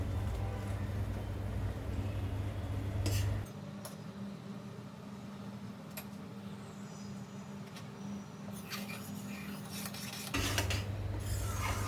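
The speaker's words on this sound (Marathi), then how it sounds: "आता मध्ये मध्ये ढवळत राहायचं नाहीतर मग ते किनारीला सगळं गोळा होऊन जातं" A spoon scrapes and stirs a semolina and coconut laddu mixture in a pan, making soft, intermittent rasping strokes over a low background hum. No one speaks.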